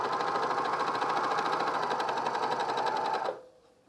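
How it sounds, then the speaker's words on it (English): A sewing machine runs fast and steadily, stitching stretched elastic onto a fleece pullover, a close, even rattling hum that stops abruptly near the end. "stretch the elastic, hold it, and then sew with your machine, and then let go"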